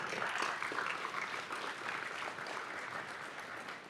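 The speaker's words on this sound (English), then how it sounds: "You guys deserve a big round of applause" A conference audience claps in a steady, dense round of applause, sustained and fairly even throughout at a moderate distance, with no voices over it.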